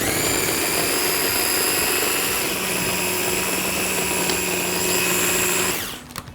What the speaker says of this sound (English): Clamp that down and blend it to a puree.